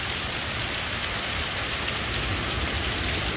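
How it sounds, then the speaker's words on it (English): A strong wind and rain storm in western Pennsylvania roars steadily, dense rain pounding surfaces in a loud, unbroken wash with no voices. "A strong wind and the rain just came through in my area and knocked out trees"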